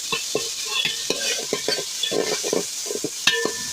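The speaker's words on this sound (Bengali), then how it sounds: "তারপর মশলাটা কষিয়ে নেব।" Masala with ginger-garlic paste fries in a pan, a steady sizzle under repeated scraping stirs with a spoon, close and clear, with an occasional clink of metal.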